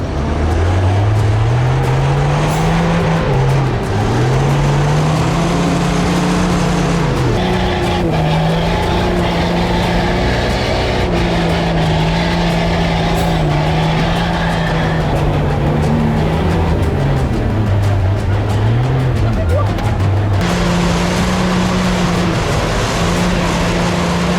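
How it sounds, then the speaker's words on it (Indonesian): An off-road car struggles along a slippery, soft muddy dirt road after rain, its engine droning loudly and close with shifting revs and surging pitch throughout, without voices. "Melalui jalan tanah yang licin dan lembek bekas guyuran air hujan, membuat ban mobil off-road sering slip dan terpleset di antara lumpur."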